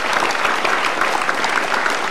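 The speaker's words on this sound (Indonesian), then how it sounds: "Boleh diberikan tepuk tangan." Dense, steady applause from a studio audience at a televised Indonesian talk show, many hands clapping together without pause, loud and close, with no voices standing out above it.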